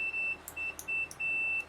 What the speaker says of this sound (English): So, I have a multimeter here on continuity mode.